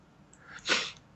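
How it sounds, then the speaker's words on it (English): A single brief, close human sneeze, a sharp burst after a short intake of breath, otherwise quiet. "I desperately need to sneeze"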